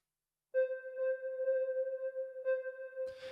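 A sustained synth lead tone with reverb and delay holds steady with a soft reverb tail, a brief re-articulation midway, and a noisy burst at the end.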